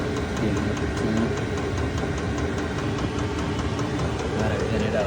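A cheap $80 diesel heater runs in a garage, powered from a lawnmower battery with its exhaust piped outside. It makes a steady, close mechanical hum with faint regular ticking pulses throughout.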